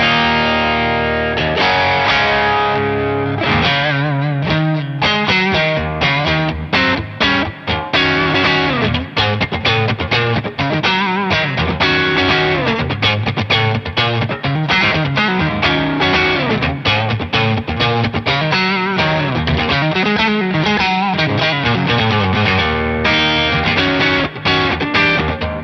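Electric guitar played through a Jam Pedals Tube Dreamer overdrive pedal, a loud, continuous run of saturated chords and notes with no gaps and no talking.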